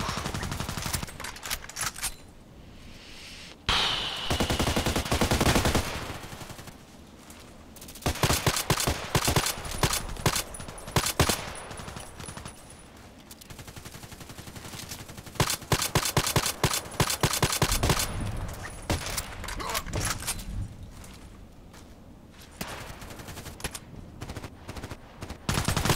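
Video game battle gunfire in bursts: loud rapid automatic shooting in several long volleys separated by brief quieter gaps, no talk.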